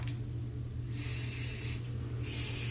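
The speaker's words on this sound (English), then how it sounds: "Then we're going to take some hairspray." Hairspray sprayed onto a full lace wig during customization, two bursts of aerosol hiss, the first about a second long and the second shorter, over a steady low background hum.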